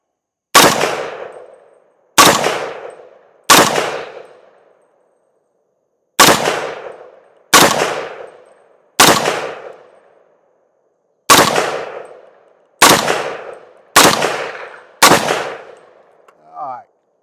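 A PSA PA-15 rifle chambered in 300 Blackout fires ten loud, sharp shots at close range in uneven clusters, each crack trailing off briefly before the next, with a faint small noise at the end.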